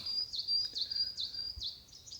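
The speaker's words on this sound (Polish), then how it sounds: "Tylko ptaszki słychać." Small birds chirp in short, bright repeated calls, fairly close, against a quiet early-morning outdoor background with no talking, on a mountain bike route between Wisła and Bielsko-Biała, Poland.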